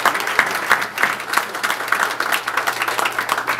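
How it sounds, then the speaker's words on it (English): Audience applause at a 2013 awards presentation, steady broadband clapping from a sizable crowd sustained throughout, fairly close and loud with no speech over it. "A round of applause."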